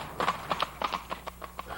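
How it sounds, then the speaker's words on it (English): Horses pulling carriages for a driving club in a state park, hooves clip-clopping in a steady, quick rhythm of crisp hoof strikes on hard ground, fairly close, with no talking. "These beautiful horses and magnificent carriages belong to members of the Paumanok Driving Club."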